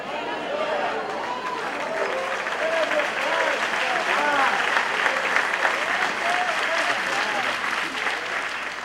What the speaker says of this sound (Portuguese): É a primeira vez que ouço alguém aplaudir com alguma coisa que o chocou.